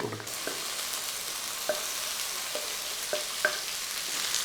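Onions and tomatoes sautéing in a pan for cauliflower curry, a steady close sizzle broken by a few soft clicks of stirring, with no voices.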